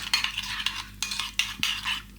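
Meatloaf ingredients are mixed in a bowl, with repeated wet, squelching stirring strokes and utensil scrapes in an uneven rhythm, close and moderately loud with no talking.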